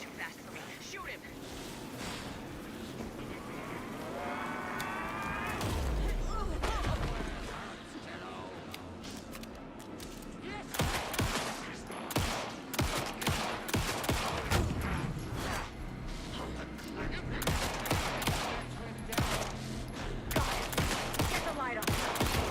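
Gunfire in the Alan Wake 2 video game: after a quieter stretch, rapid volleys of sharp shots ring out in dense repeated bursts over ongoing game sound and voices.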